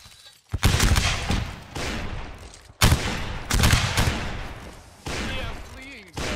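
Rapid volleys of gunfire crack out in loud bursts during a video game battle, pausing briefly between salvos, with voices shouting over the shooting.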